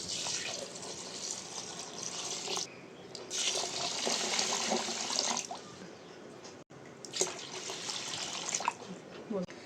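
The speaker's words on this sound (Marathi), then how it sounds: "तर ह्याच्यामध्ये आपण पाणी घालून घेऊया।" Water pours into a pot of rationed rice set to soak for papad, a steady hissing stream in long bursts broken by short pauses, close and moderately loud.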